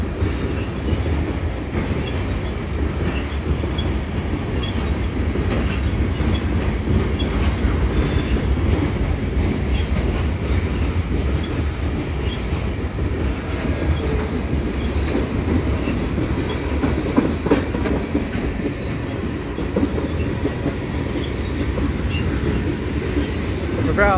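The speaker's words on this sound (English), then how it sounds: "It's been a little while since I've seen a night train here at Dorval." A long CN freight train led by a C44-9WL locomotive rumbles past close by at night at Dorval, steady low roar with clattering wheels and occasional squeals, continuous throughout.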